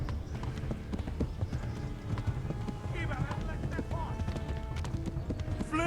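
Horse galloping in the video game Kingdom Come: Deliverance, with rapid clip-clop hoofbeats running steadily throughout under continuous game sound and someone talking.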